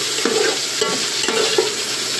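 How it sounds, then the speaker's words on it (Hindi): Chicken fries in oil in a home pan, giving a steady close sizzle broken by a few sharp scrapes and clanks of stirring, with no talk. "कितना अच्छा चिकन फ्राई हो रहा है।"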